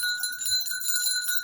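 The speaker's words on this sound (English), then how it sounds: "So I'm ringing this bell for us" A small handheld good-luck bell is rung close by, producing a bright, sustained jingling ring with several overlapping tones that continues throughout, with no voices.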